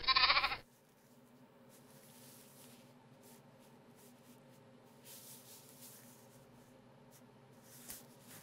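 One sheep gives a loud, close bleat right at the start, lasting about half a second, followed by a quiet, faint background hum with small scattered noises.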